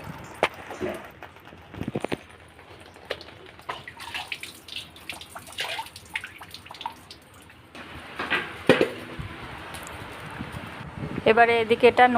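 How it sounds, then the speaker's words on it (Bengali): Taro greens being washed and drained in a kitchen for a Jagannath bhog dish, with intermittent splashing, trickling and dripping water, handling clatter and a louder rinse near the end, moderately close. "কচু শাকটা ভালো করে ধুয়ে নিয়ে জল ঝরিয়ে নিচ্ছি"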